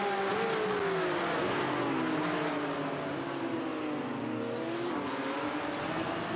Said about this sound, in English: the two little Caymans battle away